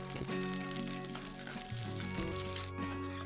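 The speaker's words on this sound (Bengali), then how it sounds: "প্রথমে বড়িগুলো একটু লাল লাল করে ভেজে নেব, লক্ষ্য রাখবো যেন পুড়ে না যায়" Bori (lentil dumplings) frying in mustard oil crackle and sizzle quietly throughout, with sustained tonal humming in the background and no speech.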